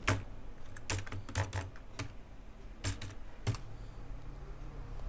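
Keyboard typing while entering MATLAB commands on an Android phone, with sharp, fairly loud keystroke clicks that arrive in short, irregular bursts separated by brief pauses and no speech.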